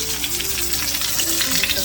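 A T-bone steak sizzles and fries steadily in a hot pan, a continuous bright crackling hiss that stays even and close throughout.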